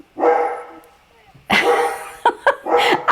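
A dog barks in bursts at home during a live astrology broadcast: a long bark, a pause, then several quick barks close to the mic, with talk around them.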